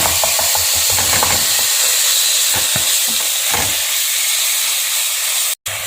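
Onions and meat frying in a pan with a loud, steady hiss, broken by close rhythmic scrapes of stirring that stop partway through, ending with a brief cutout.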